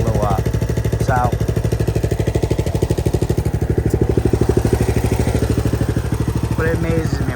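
A 1991 Sears Craftsman LT4000 lawn tractor fitted with a 2021 Briggs engine runs close by with a loud, rapid, even chugging, and a voice speaks briefly over it.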